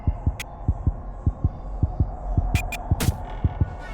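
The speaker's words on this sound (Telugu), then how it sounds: "ఏంటి హార్ట్ బీట్ పెరుగుతుంది?" A heartbeat sound effect in Roblox Doors thumps in a steady double-beat rhythm, low and prominent, over a soft hum with a few sharp high clicks.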